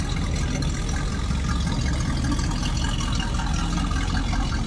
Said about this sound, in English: And you can hear the pure sound of engine exhaust.